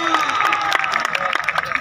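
A stadium crowd at a match in Dera Ismail Khan claps steadily in quick, dense bursts, with voices and shouting mixed through the applause.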